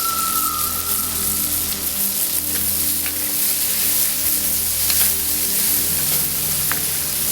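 Chicken stir fry sauce sizzles steadily in a pan on a Weber grill, a loud, continuous frying hiss with faint crackles that holds evenly throughout, with no talking.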